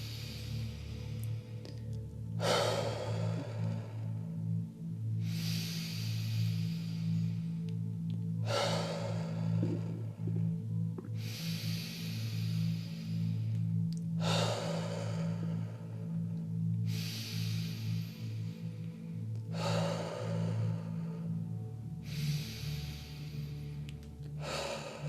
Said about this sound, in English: We're going to do some deep breaths just in through the nose.